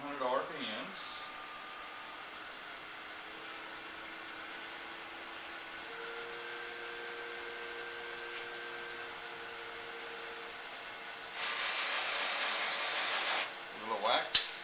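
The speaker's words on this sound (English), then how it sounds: "I'm gonna put the wax buffing pad on the Beall. Speed up to about 1800 RPMs." A Beall buffing system spins a wax buffing pad at about 1800 RPM while finishing a cherry hollow vase, giving a steady mechanical whir throughout with a louder, broader rush of buffing near the end.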